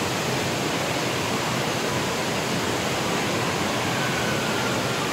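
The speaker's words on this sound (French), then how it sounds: "là c'est la piscine à vagues du coup, qui est quand même assez grande" A large indoor wave pool at Center Parcs sends out a constant, dense wash of rushing water, loud and unbroken like a broad roar filling the space, with no voices over it.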